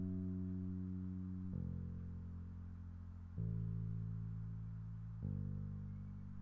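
A sad, somber bass line for an RPG town theme repeats a short pattern of long sustained low notes, changing pitch every couple of seconds, soft and alone.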